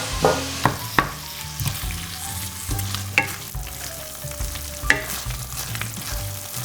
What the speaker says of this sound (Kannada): ಈಗ ಟೊಮೆಟೊ ಹಾಕೊಳ್ತಿದ್ದೇನೆ.